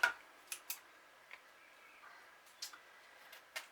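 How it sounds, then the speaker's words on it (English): Paper being trimmed with scissors, a handful of short, crisp snips spaced irregularly over a quiet background. "let's just trim that bit off"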